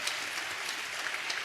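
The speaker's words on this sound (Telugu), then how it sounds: "చప్పట్లు కొడుతూ దేవునికి స్తోత్రాలు చెప్తా." A church congregation claps while praising God, a soft, dense patter of hands heard at a distance for a short stretch.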